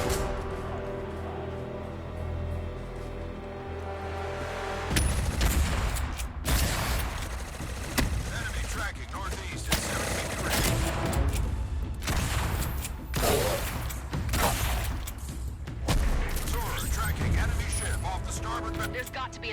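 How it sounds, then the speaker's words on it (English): A shotgun fires repeatedly in the Battleship video game, with loud booming blasts starting partway through, backed by mechanical clatter and layered game-combat noise, with a voice talking over it. "I once again will say that this is a surprisingly good shotgun."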